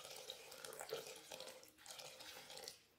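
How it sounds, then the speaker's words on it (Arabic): Dried hibiscus is washed in water, giving a soft, faint running-water and swishing sound with small splashes, recorded quietly and close. "أول إشي رح نغسله بالمية لأنه إلا ما يكون عليه شوية أتربة أو غبار"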